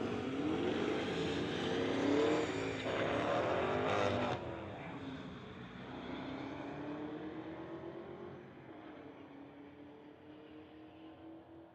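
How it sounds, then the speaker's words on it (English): A Mustang and a Camaro race down a drag strip at a street-legal drag night, loud engines roaring and climbing through gear changes before receding as they pull away. "All right, we've got Mustang versus Camaro."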